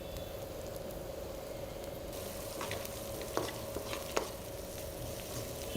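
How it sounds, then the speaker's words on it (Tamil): Onions with a little salt sautéing in a pan for Chettinad garlic prawn masala, giving a steady, faint, close sizzle with occasional light scrapes of stirring, and no talk. "வெங்காயம் அந்த மாதிரி கொஞ்சம் பொன்னிறமாக வதங்கணும்."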